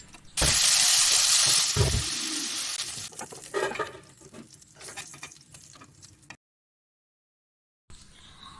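Chicken pieces frying in hot oil and being turned in the pan, a loud burst of sizzling that settles into steadier crackling with occasional scraping, then a brief silence.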